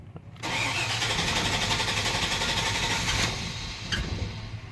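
Pickup truck engine with coolant temperature, crankshaft and camshaft sensor fault codes, cranking hard to start: a close, steady, loud churning whir holds for several seconds without the engine catching, with no talking.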